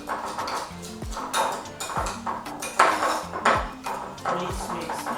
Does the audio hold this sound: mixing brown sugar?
yes